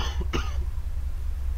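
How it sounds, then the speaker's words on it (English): A player character in SCP Containment Breach gives two quick raspy coughs, close and short, followed by near silence. "Why am I coughing?"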